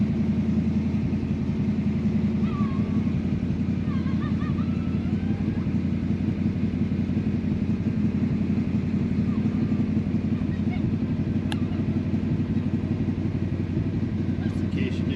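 A 1966 Ford Mustang GT V8 idles steadily after a cold start, a loud, continuous low rumble holding even throughout, with a brief sharp click near the end.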